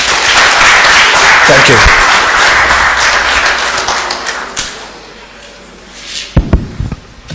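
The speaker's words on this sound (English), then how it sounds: "I think we all deserve to give ourselves a round of applause." A dense, loud round of applause fills a hall at a summer school closing ceremony in Rwanda. It fades over several seconds, then a few thumps and taps follow and a voice speaks briefly.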